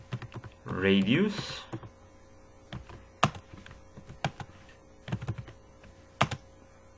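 Typing C++ code on a computer keyboard, bursts of close, crisp key taps in uneven clusters, with a voice speaking briefly near the start.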